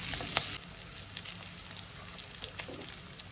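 Pork with mustard greens frying in a pan gives a steady, close sizzle, broken by quick scraping strokes of stirring, with a brief louder clatter at the start and no talk.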